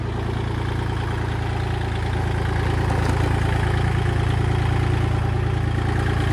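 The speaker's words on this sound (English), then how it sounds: "Again, the tractor's in park, heating it up for the oil." A Kubota L2501 tractor's diesel engine idles in park while warming up before an oil change, a steady low rumble that holds even and continuous, close and alone.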